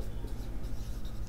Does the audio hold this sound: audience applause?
no